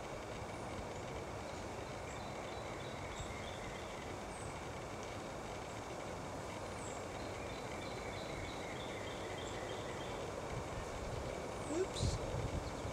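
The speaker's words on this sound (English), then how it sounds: "I think the train is about 2 miles that way" A train about two miles off rumbles as a low, steady wash under the quiet outdoor ambience, far and faint throughout, with a faint squeal near the end.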